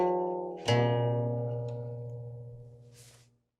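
Chinese qin zither, or guqin, plucked close and alone: a soft note, then a firmer pluck that rings on as an open string and slowly decays over a few seconds.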